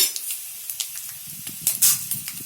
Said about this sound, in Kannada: ಕಡಲೆ ಬೀಜವನ್ನು ಸ್ವಲ್ಪ ಫ್ರೈ ಮಾಡ್ಕೊಳ್ಳೋಣ